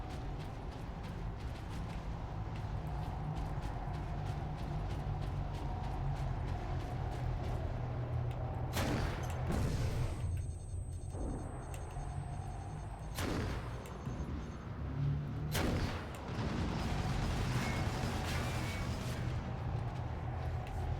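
A grenade launcher fires in the Warhammer 40k Space Marine video game, with several booming blasts over a constant rumbling battle bed, with no speech.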